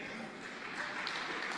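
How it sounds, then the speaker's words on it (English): A distant audience claps steadily in a dense spatter of hand claps at a low level, with a voice talking faintly over the applause. "Who in the hell is clapping at that crap?"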